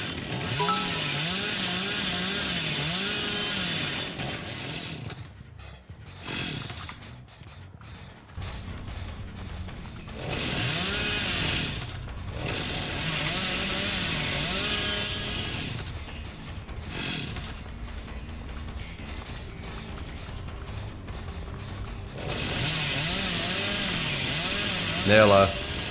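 Billy's chainsaw in Dead by Daylight revs in repeated buzzing bursts that rise and fall, broken by short gaps, with in-game sounds and a voice talking throughout.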